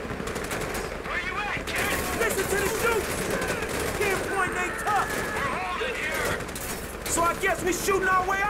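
Sustained video game gunfire on a mission keeps up nearly constant rapid bursts that sound like machine guns, loud and dense throughout, with overlapping voices talking over the shooting.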